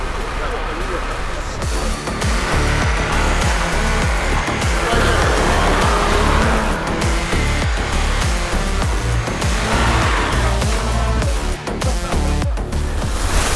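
A Toyota Prado launches hard from a standstill in a race against a Range Rover, its engine roaring loud and close with pulsing surges and tire noise. Voices talk over the noise throughout.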